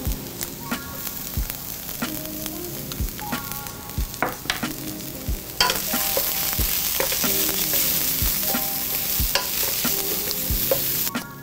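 Coriander, chili powder, garlic and crushed red pepper toasting in a pan for shakshuka, a continuous close sizzle with repeated utensil scrapes and knocks, growing louder and denser partway through, no talking.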